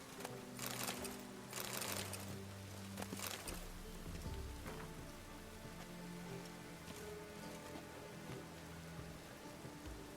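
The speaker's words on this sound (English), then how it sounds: "Rain makes the city even more dreary." Rain falls on city streets in the video game Witcher 3, a steady patter of drops with a few louder splashes early on, alongside a low tonal game background hum.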